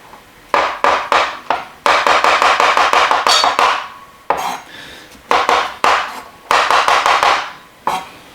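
Button mushrooms sliced with a knife on a wooden cutting board, giving loud, sharp chopping knocks in quick bursts with short pauses between runs of cuts.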